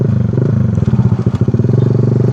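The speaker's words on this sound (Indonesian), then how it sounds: "Sebenarnya knalpot berisik." A Honda Sonic 150R motorcycle fitted with an SC Project exhaust rumbles loud and close with a rapid pulsing burble and rattly crackle, holding a steady idle-to-rev throb.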